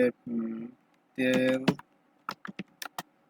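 Keys on a computer keyboard clack in a short run of quick, separate taps near the microphone while a profile summary is typed, following a few moments of spoken voice.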